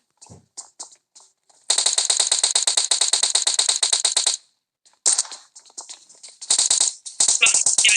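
Video game gunfire crackles in rapid automatic bursts, short stuttering volleys at first, then long sustained streams separated by brief silences, loud and close.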